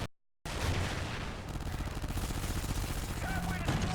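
Turret machine-gun fire in the video game Call of Duty Ghosts Extinction: a dense, continuous rattle of rapid shots after a brief silent gap, loud and close, with game effects layered underneath.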